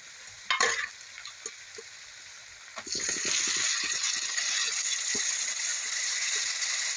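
Greens stirred into roasted gram flour in a pan, a few scraping stirs giving way to a loud, steady sizzle as the leafy saag of fenugreek, mustard, spinach and bathua hits the hot pan, close and continuous.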